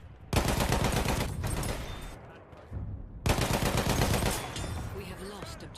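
Rapid automatic gunfire from a machine gun in a video game, loud and continuous in two long bursts separated by a brief lull, with a shouted voice over it.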